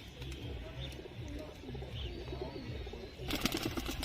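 Pigeons in a loft in R.S. Pura, Jammu, coo in repeated low, throaty rolling calls, close and steady, with faint background voices and a brief burst of clattering noise near the end.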